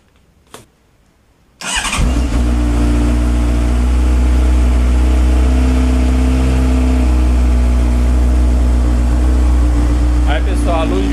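A Honda Hornet motorcycle engine cranks and fires after a short quiet pause, then settles into a loud, steady idle close by after an oil change.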